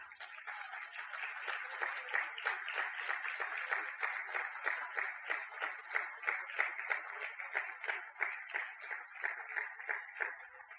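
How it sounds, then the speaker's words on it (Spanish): A church congregation claps steadily in praise to the Lord during a Spanish-language sermon, a continuous moderate-level patter of many hands with no speech over it. "Dele un aplauso al Señor."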